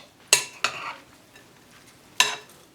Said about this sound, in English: you have to keep stirring it to make sure that you've got the egg distributed very well